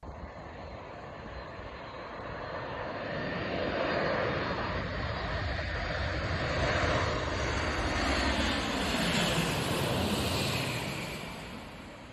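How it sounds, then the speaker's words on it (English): A Boeing 747 on final approach at O'Hare, heard close up as a loud, steady jet engine roar with a high whine, swelling to a peak midway and easing slightly as it passes. "Close-up footage of a Boeing 747 on the final approach at O'Hare."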